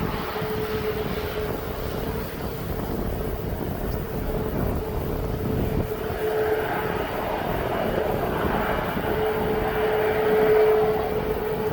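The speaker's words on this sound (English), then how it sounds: "So just as that plane's now just taxied on" A jet airliner taxis at East Midlands Airport, its engines a steady, loud droning whine with a sustained tonal hum that swells slightly toward the end, heard alone without talk.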